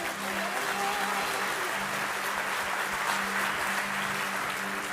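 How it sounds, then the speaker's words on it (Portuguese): A church congregation clapping during a Portuguese-language sermon, a continuous, even roar of many hands, with a low murmur or tone running beneath it. "Se você quer aplaudir, aplauda ao Senhor."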